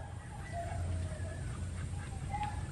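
A lost duck in a rural province after a typhoon gives soft, faint quacks and calls against steady outdoor background noise.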